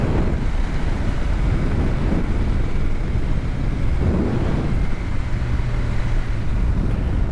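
Gen 3 Hayabusa motorcycle under hard acceleration in a small power wheelie, heard as a steady loud roar mixed with heavy wind rush over the microphone, no talking.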